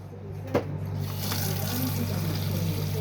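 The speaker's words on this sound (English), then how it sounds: "hot water coming out the tap as it should" Hot water runs steadily from a tap with a soft, continuous hiss and splash, accompanied by a low electrical hum throughout.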